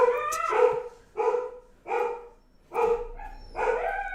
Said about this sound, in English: They're good guard dogs